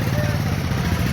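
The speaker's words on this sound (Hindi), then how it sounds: "मोटरसाइकिल का सफ़र करते हुए।" A motorcycle engine runs during a ride to a village panchayat in Koti, with a steady, low, pulsing drone heard close and continuous throughout.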